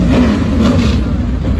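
Whelen Modified Tour race car engines at Beech Ridge, a loud, close, continuous rumble of several engines idling and revving together.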